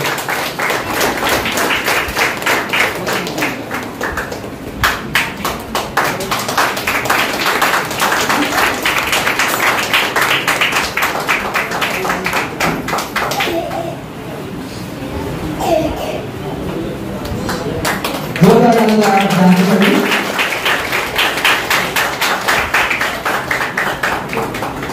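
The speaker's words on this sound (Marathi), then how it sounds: "जोरदार टाळ्या वाजवा" An audience at a school student award ceremony claps in a sustained, dense burst of applause, rising and fading over many seconds with a few voices and thumps mixed in.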